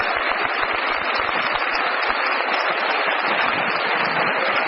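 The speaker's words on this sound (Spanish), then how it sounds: "un gran aplauso" A large audience claps at an evening talk, a dense, even wash of applause sustained for the whole stretch without voices.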